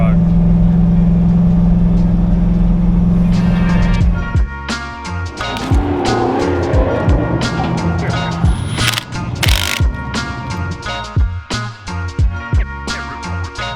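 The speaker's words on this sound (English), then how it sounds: "Never thought I'd be cruising on the highway in the drift truck." Supercharged 1UZ V8 drift truck cruising on the highway, a steady loud engine drone at first, then clattering mechanical rattles and road noise over continuous cabin roar.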